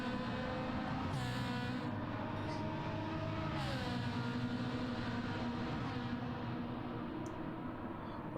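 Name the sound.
race car driving on track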